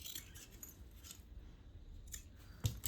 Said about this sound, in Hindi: कट करते हैं दोनों साइड से।